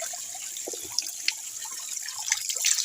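Water runs steadily from a tap at a quiet, peaceful spot in Kenya, making a soft continuous splashing hiss with a few small drips and spatters.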